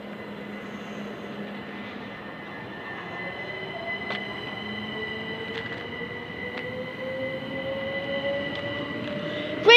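A Southeastern train at Ashford International station rumbles with wheel and rail noise, steady tonal whines rising in pitch as it moves, and a few sharp clanks, with no talk.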